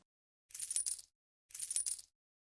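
Two short bursts of coins from a wallet clattering and jingling onto a dining table, each lasting about half a second, close and crisp, with silence around them.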